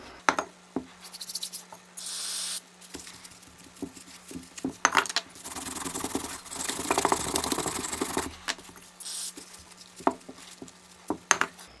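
Water splashes and patters over a Yamaha carburetor part in bursts, with sprays of hiss rising and falling, light clinks and taps of handling scattered between, close by and alone with no talk.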